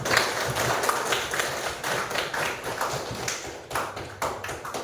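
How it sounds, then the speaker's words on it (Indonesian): Students in a classroom clap continuously for about five seconds, a dense, steady patter of many hands that stays even in loudness throughout. "kasih aplaus buat Safa"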